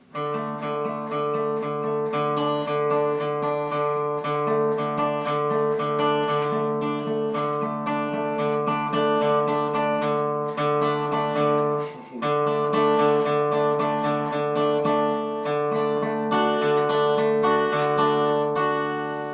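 A guitar plays a continuous, rapid hybrid-picked pattern, pick with middle and ring fingers, of bright, ringing notes, steady and close, with a brief pause near the middle.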